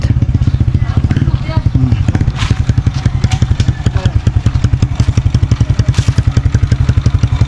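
A motorcycle engine, freshly repaired after a check-up, runs loud and close with a rapid, steady, chugging pulse throughout.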